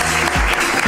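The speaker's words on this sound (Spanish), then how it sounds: "Un aplauso muy fuerte para Alejandro." Loud, dense applause from a live comedy-show audience, a short continuous burst of clapping that fills the whole moment.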